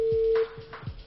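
A telephone line tone sounds during a TV quiz show lifeline call, a single steady electronic beep of about half a second that cuts off, followed by faint handling noise.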